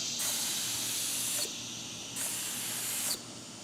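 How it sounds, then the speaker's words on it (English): An HVLP spray gun sprays lacquer in two long, steady bursts of loud airy hiss, with a short quieter gap between them and no talking. "So I'm going to decrease the fluid a little bit and decrease the spray pattern a little bit."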